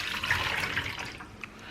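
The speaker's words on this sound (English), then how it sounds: "I'm gonna add the water first." Water poured from a container into bread-dough ingredients in a mixing bowl, a steady close splashing trickle for about a second and a half, tapering off near the end with no talking.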